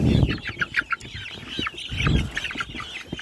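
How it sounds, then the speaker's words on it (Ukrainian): Australorp rooster and chickens cluck in a busy run of short, repeated calls, some close and loud, others overlapping in quick bursts. "У мене тут є ще півник вредний, австралорб такий."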